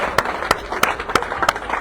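Applause from a small crowd at an outdoor political party rally, a few distinct, evenly spaced claps that sound sparse rather than thunderous.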